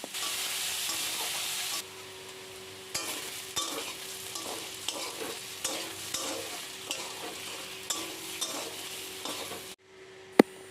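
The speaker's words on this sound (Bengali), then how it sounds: "এবার আলুটাকে খুব ভালোভাবে ভেজে নিতে হবে।" Potatoes coated with salt and turmeric fry in hot mustard oil in a wok, a steady bright sizzle. Repeated stirring scrapes cut through it, and the hiss drops away abruptly near the end.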